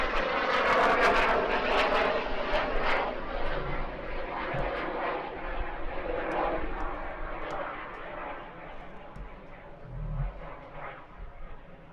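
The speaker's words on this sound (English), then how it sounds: "The demonstration of the microjet will consist of basic acrobatic maneuvers such as loops, rolls, point rolls, half Cuban 8s, Humpty Bumps, and an inverted arc." A microjet flies aerobatic maneuvers such as loops and rolls at an outdoor air show, its engine roaring loud overhead at first, then easing and fading slightly as it moves away.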